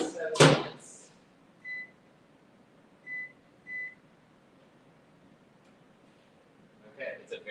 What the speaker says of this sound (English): we're going to cook these just instant peas in the microwave now